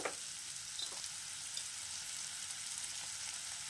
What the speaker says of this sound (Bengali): কুচি করে রেখেছি পেঁয়াজটাকে একটু ভাজা ভাজা করবো সামান্য।